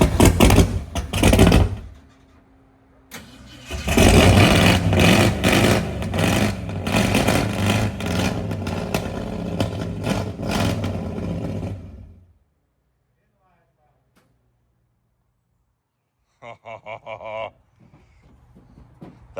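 A Saleen SR Mustang race car engine fires up and revs hard with loud, rough bursts, then cuts out to near silence before a short final blip, with speech at the start.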